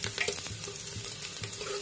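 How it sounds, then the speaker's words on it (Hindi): Oil sizzles in a pan while a spoon stirs it to light brown for a simple potato sabji, a close, constant fry with soft scraping and stirring knocks and no talking. "ये मैंने डाल दिया है, तेल को हल्का ब्राउन होने तक चलाना है।"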